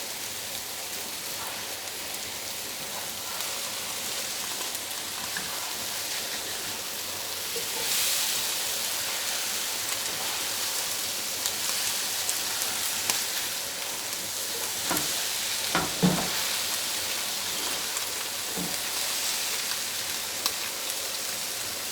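An omelet with peppers sizzles steadily in a pan, a dense continuous crackle close up with a few louder spits and pops, no talking.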